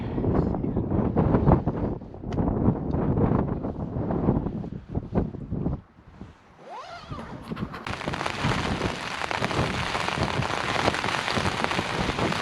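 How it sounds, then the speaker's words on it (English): Rain drums steadily on a tent during a stormy night on Dartmoor, gusts buffeting the fabric in uneven surges before the downpour settles into a dense, continuous hiss. "And that rain's been on the go now for about 20 minutes or so."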